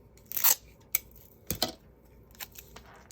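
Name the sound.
scissors cutting pearlized white cardstock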